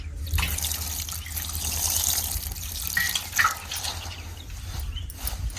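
Fenugreek greens are rinsed under a running tap into a sink. The water streams steadily at a moderate level, with a few brief splashes and drips standing out and no talking.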